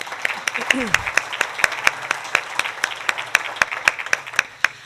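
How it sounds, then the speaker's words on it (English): A small room of people applauds at a Rotary club meeting, a loose burst of distinct, fairly close hand claps that slowly settles into a steady rhythm, with a brief voice at the start. "Let's give him a round of applause."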